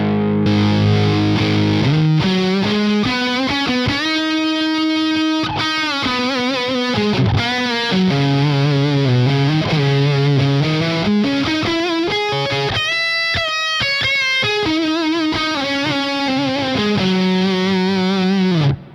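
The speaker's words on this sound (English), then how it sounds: "So that's the sound of the bender." An electric guitar runs through a 29 Pedals bender effect, giving a heavily distorted, processed tone as a melodic line slides and bends through sustained notes, loud and continuous with no talking.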